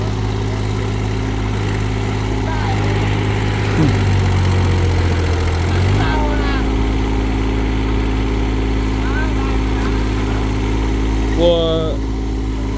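A small excavator's engine runs steadily while it drills a hole for a power pole in deep water beside an old power line, a constant mid-pitched idle-like drone with a brief shift partway through and occasional faint voices.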